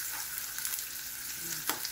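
Tuna sizzles and crackles steadily in hot oil in a pan, close by, with occasional pops and no voices.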